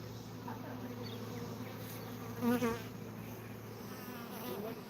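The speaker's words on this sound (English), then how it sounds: "There's a lot of bees in there." Honey bees buzz at a hive in a dense, steady hum close by, one passing louder near the middle, with a low background drone.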